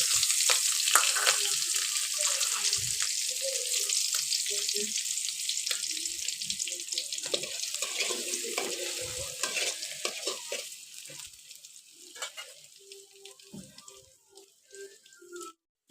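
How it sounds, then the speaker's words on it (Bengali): Green chillies and chopped onion frying in mustard oil in a pan, a loud continuous sizzle with stirring scrapes that gradually quiets toward the end. "প্রথমে সরিষার তেল দিয়ে এর মধ্যে কয়েকটা কাঁচামরিচ দিলাম গাছ থেকে এনে আর একটু পেঁয়াজ কুচি দিয়ে দিলাম"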